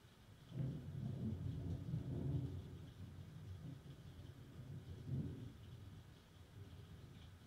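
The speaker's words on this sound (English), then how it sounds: "it's stormy there, man" Thunderstorm rumbling outdoors, low rolling thunder swells twice over a steady wash of rain, fairly faint and distant with no talk.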